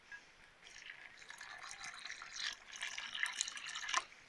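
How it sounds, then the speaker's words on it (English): Water poured from a can into a small well dug into loosened, fluffy garden soil topped with potash, giving a faint, steady splashing trickle that builds slightly toward the end. "Pour some water in the well"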